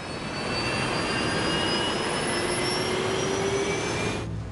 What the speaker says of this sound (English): Jet engines contain turbines that make different sounds depending how quickly they're spinning.